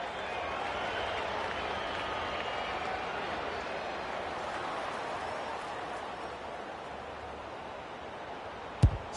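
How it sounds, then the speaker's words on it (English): Steady roar of a stadium crowd in the AFL 26 football video game, a dense, continuous wash of cheering and applause held at an even level throughout, with a brief sharp thump near the end. "The crowd will tell the story."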